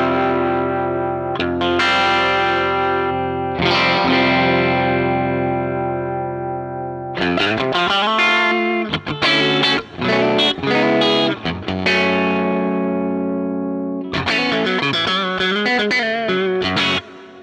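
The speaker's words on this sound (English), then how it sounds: "Right now I have all of the delay and reverb on just this amplifier" Electric guitar through the Blue Cat Axiom amp plugin with heavy delay and reverb: sustained chords and bursts of notes that ring out and trail off in long echoing tails.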